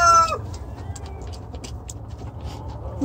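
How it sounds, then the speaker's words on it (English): Chickens clucking softly among faint scattered bird chirps, with a brief louder squawk at the very start and low background rumble throughout. "We're checking on the chickens"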